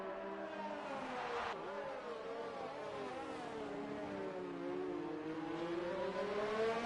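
Racing Point Formula One car engine in a racing video game: a high, sustained engine whine rising and falling through gear shifts, fairly quiet and continuous, with no talking over it.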